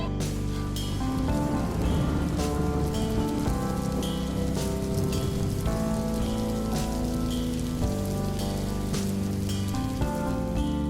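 Steady rain pattering on surfaces at a hillside eco resort near the sea, a continuous dense hiss with scattered drop taps throughout, close and even in loudness.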